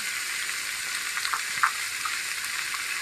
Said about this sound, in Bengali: মাংসগুলো দিয়ে হালকা নাড়াচাড়া করে নেব